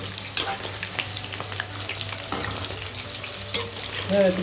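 Crispy chilli chicken sautés in a hot pan with a constant oily sizzle, punctuated by occasional scraping stirs of the spatula, heard up close without any speech.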